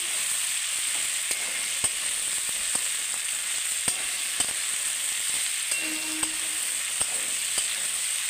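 Pumpkin pieces fry in a pan with an even, hissing sizzle, punctuated by regular light taps of a utensil against the pan, close and steady, with nobody speaking.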